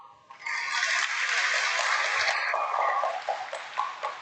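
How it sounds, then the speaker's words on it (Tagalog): A wedding Mass congregation breaks into sustained applause for the newly married couple, a dense, even clapping that swells quickly and holds for a few seconds before tapering into scattered claps. "Brian J. ken Krisa Joy palakpakan tayo man ida."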